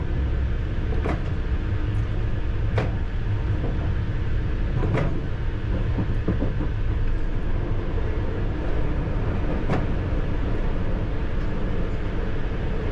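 A London Underground Piccadilly line train runs westbound through a tunnel with a loud, continuous rumble and roar, broken by occasional sharp clanks and squeals from the track.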